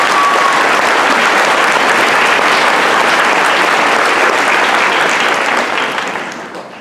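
A large graduation crowd applauds in a dense, loud, sustained wash of clapping that holds steady, then tapers off at the very end.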